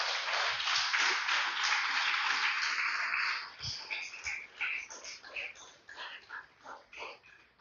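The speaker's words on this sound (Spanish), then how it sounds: "Den un fuerte aplauso al Señor" Church congregation giving a strong round of applause to the Lord during a sermon, several seconds of steady crowd clapping that breaks into scattered, fading claps near the end.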